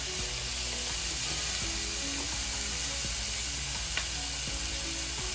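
Food sizzles and fries in a hot pan during home stir-fry cooking, a steady close hiss that runs the whole time with faint tonal sounds beneath it.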